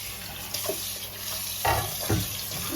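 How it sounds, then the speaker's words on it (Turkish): Water runs and splashes while a bathroom is being rinsed, with a steady faucet-like hiss and a couple of louder splashes close by; no talking. "Şimdi burayı durulamaya geldim."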